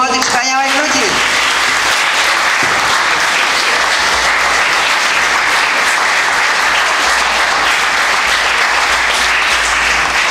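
An audience at a school-year inauguration ceremony in Andrychów applauds scholarship students with loud, sustained, dense clapping that fills the room evenly throughout, with a brief voice audible at the very start.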